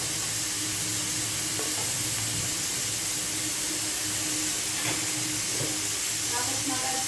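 Mushrooms frying in a pan, a steady sizzle with intermittent scraping stirs, close and fairly loud, with someone talking at times.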